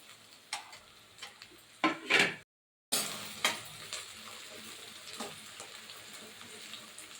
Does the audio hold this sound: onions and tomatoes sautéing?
yes